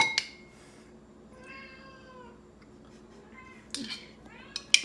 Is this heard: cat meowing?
yes